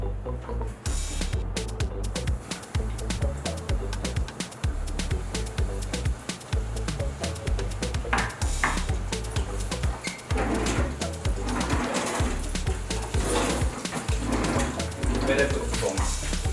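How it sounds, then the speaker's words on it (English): Chicken wings seasoned with paprika and black pepper fry in oil for a hot wing recipe, giving a dense, steady hiss with crackling pops throughout. "Let's fry these guys."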